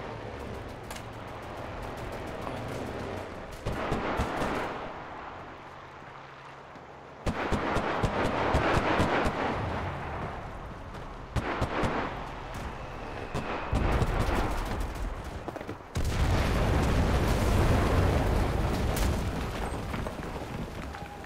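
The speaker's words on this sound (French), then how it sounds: "La frappe d'artillerie." Artillery strike explosions in Enlisted's Normandy fighting hit in a series of loud, heavy booms with rumbling tails, separated by short lulls and ending in a big sustained blast, with almost no voice.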